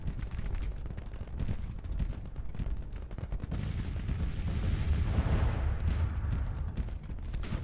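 Dense, rolling artillery barrages and scattered gunfire boom continuously across a Civil War battlefield in the strategy game Grand Tactician: The Civil War, loud and sustained with no talking.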